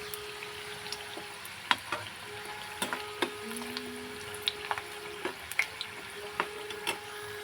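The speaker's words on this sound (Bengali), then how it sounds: "সব নিমকিগুলো আমি এইভাবে ভেজে নেবো।" Nimki snacks of dough fry in oil in a flat roti pan, giving a soft, continuous sizzle broken by scattered sharp pops and crackles, close and without talk.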